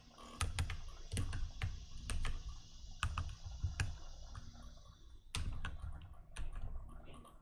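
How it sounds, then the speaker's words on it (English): Keys on a desktop computer keyboard clatter in quick, uneven bursts of crisp clicks close by, with short pauses between runs of typing. "I'm not used to my desktop keyboard"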